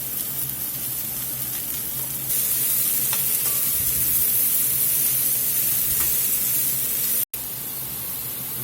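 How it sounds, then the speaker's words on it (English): Mushrooms brown in olive oil in a skillet, giving a loud, dense, steady hiss of frying that grows fuller partway through, with faint occasional stirring clicks. "Drop these mushrooms in. Let them brown up."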